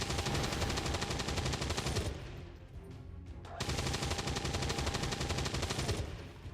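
Ballistic weapons fired by soldiers in XCOM 2, loud sustained automatic gunfire in dense rapid bursts, a brief pause with scattered impacts, then another long burst.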